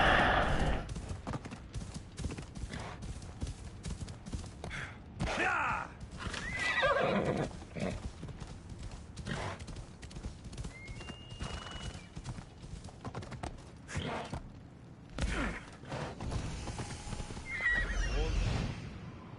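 Hooves clip-clop steadily as a horse neighs a few times, with other game noises in the mix, in Assassin's Creed Odyssey.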